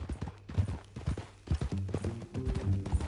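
Horse hooves clip-clop at a steady walking rhythm, close and fairly loud, in Red Dead Redemption 2. A voice talks over the latter half.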